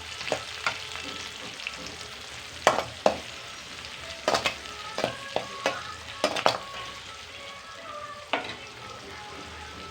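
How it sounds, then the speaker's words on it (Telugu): Onions fry in a little leftover oil in a pan after kofta balls were fried, giving a soft steady sizzle broken by repeated sharp scraping and clacking strokes of a stirring spoon. "ఆయిల్ తీసేసి అందులోనే కొంచెం ఆయిల్ ఉంచుకొని అందులోనే ఉల్లిపాయలు వేసుకోవాలి."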